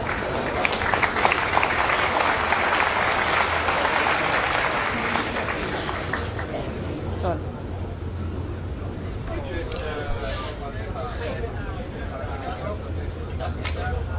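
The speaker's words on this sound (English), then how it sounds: "the joviality of the crowd and their laughs and cheers" Snooker crowd at the 2012 Shanghai Masters final cheering and applauding, a loud burst of clapping and cheers that gradually settles into lower murmuring with some talk over it.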